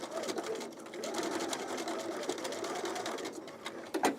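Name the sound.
sewing machine stitching, starting in the middle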